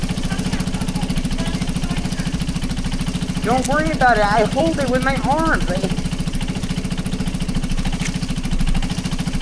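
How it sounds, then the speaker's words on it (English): Motorcycle engine idling as it warms up, a steady close low rumble running throughout while a person speaks briefly over it midway. "I just need a few seconds to warm up the engine"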